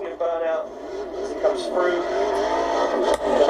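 A Nissan GT-R race car slides sideways around a track at the Goodwood Revival, its engine note wavering and revving through the drift, fairly close and continuous.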